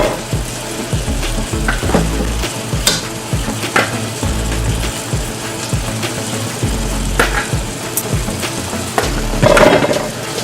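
Steady loud sizzling of steaks searing in a pan fills the clip, with occasional scraping and clinking of utensils in the pan, no voices.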